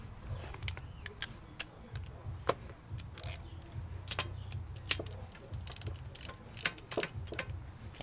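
Ratchet clicking steadily as it tightens the oil drain bolt on a Yamaha Raptor 700R ATV, a run of fast, close mechanical ticks in short bursts with no talk.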